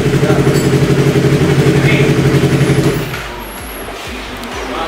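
A Yamaha R25 motorcycle with a Prospeed Python racing exhaust holds a loud, steady, throbbing high rev for about three seconds, then drops to a rough, pulsing idle.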